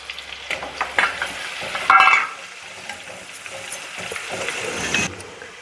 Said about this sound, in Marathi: आता लसूण भाजले.